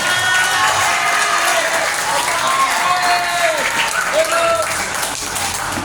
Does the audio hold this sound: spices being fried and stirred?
no